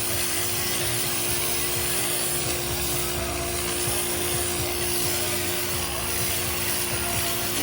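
A pressure washer spraying a moldy, algae-stained sidewalk outside, its steady loud hiss of water and motor hum running unbroken throughout.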